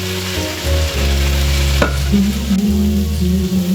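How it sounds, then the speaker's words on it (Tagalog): Sliced aromatics sautéing in a pan for a green bean, carrot and bell pepper stir-fry, a loud continuous sizzle with a low hum beneath and a brief sharp clink midway. "Gisa na natin gamit ang ating mga hiniwang pansangkap."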